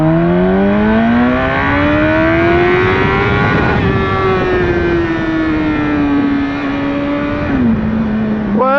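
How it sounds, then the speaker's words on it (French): A 2007 Honda CBR1000RR motorcycle engine revs loudly and steadily, its pitch climbing, holding high, then dipping slightly and bouncing near the top of the rev range, with no one speaking. "Bon, on va se faire un petit rupteur de 1 hein, pour voir."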